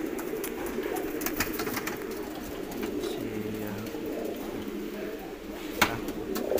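A prize-winning racing pigeon coos softly amid a steady outdoor crowd din at a pigeon contest, with voices murmuring through the noise.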